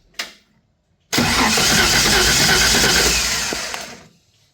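A race car engine cranks and catches as the key is turned, a brief click followed by a loud, sustained rough engine roar that cuts off abruptly near the end.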